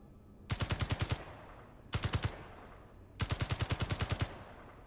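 Automated turret fire in the space survival game Space Engineers comes in three rapid machine-gun bursts separated by short pauses, moderately loud over a faint background drone.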